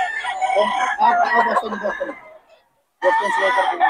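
At a chicken market, a rooster's long crow rings out close and loud, fades into a short silence, then another crow starts up sharply.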